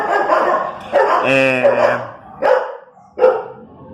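A dog barks loudly and close by, one long harmonic bark followed by two shorter, sharp barks indoors, standing out clearly with no talk over them.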